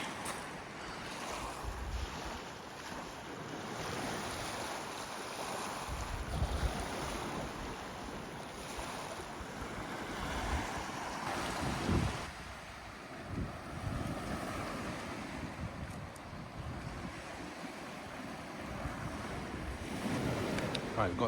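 Small waves wash onto a little beach bay in Scotland in steady rolling surges, mixed with gusting wind buffeting the microphone, fairly close and continuous throughout.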